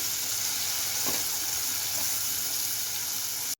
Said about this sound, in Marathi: छान असं 2-3 मिनिटं आपण हे तेलामध्ये परतून घ्यायचं।